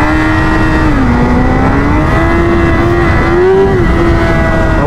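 A car engine with a stock exhaust hums steadily with a clear tonal drone, its pitch rising and dipping slightly as it is revved, loud and close throughout with no talking.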